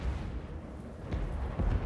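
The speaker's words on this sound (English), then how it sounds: "Great cannon." Great cannon artillery firing in the Total War: Warhammer 2 video game, a short burst of low booming shots with a heavier boom near the end, set against continuous battlefield rumble.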